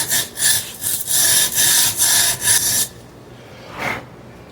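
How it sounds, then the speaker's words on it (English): A metal tube being sanded with emery cloth, about seven rhythmic back-and-forth rasping strokes up close, then a pause and one last short rub. "So now I can wrap this actual tube we're going to actually be using in this actual sandpaper."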